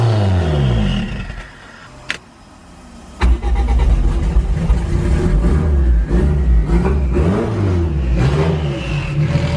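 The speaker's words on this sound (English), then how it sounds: "Big cams that are in the back here make the engine so much more louder than the front." Forged Toyota 5E-FE engine with big camshafts, mounted at the rear of the car, runs loud and close with a lumpy idle, briefly dips quiet, then restarts and revs with rough, throbbing surges.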